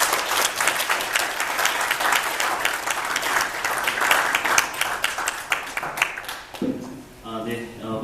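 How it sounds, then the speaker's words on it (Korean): A forum audience breaks into sustained applause, dense steady clapping from many hands that fades near the end as a speaker's voice comes in. "다시 한번 큰 박수 부탁드립니다."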